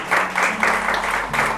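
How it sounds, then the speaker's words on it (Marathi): A church congregation at a sermon claps together, loud and near, the applause pulsing in even rhythmic bursts. "लक्षात घ्या, टाळ्या वाजवा स्वतःसाठी."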